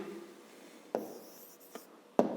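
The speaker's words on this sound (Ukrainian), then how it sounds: "Записуємо тоді відповідь." A pen writes an answer by hand on paper for a fifth-grade math exercise, producing faint scratchy strokes and a few light taps at close range, with no talking.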